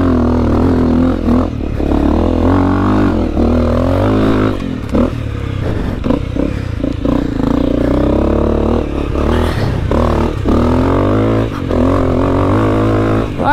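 Honda CRF250L dirt bike riding off-road trails, engine droning and revving up and down close by with rattles and scraping from the rough ground, no talk.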